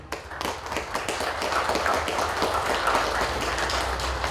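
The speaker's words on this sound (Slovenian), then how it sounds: "En aplavz, prosim." Crowd applause at a Slovenian community gathering honoring local guests, a sustained patter of many hands clapping at moderate loudness, steady and even throughout without talk.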